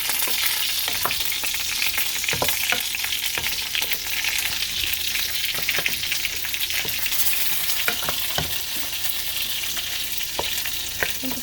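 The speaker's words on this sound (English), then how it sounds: "that crackling noise you hear is some pork belly slices I have frying for something else" Close, loud frying of pork belly slices with constant sizzling and frequent sharp crackles and pops, no voices.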